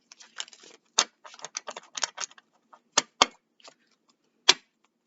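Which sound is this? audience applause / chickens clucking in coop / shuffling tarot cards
shuffling tarot cards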